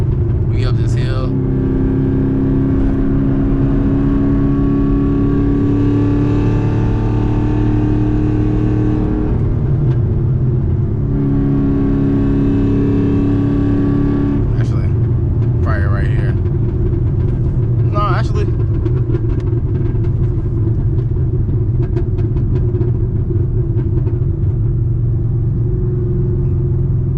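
A manual 900 hp Camaro ZL1 accelerates uphill in third gear, its loud, steady engine drone rising in pitch across two pulls with a brief shift between them, while a driver talks over it.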